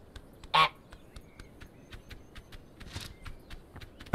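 In Untitled Goose Game, a single short honk sounds clearly near the start, followed by faint pecking taps, with another honk cutting in at the very end.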